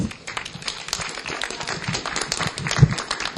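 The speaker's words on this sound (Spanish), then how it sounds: "a quienes les ofrecemos fuertes aplausos" An audience at a book presentation applauds, a dense patter of many hands clapping at moderate loudness, continuous throughout.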